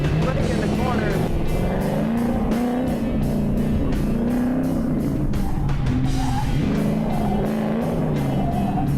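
Drift car cornering hard during a drifting event, engine loud and revving with a sustained, wavering roar through the bend, fairly close, with people talking over it.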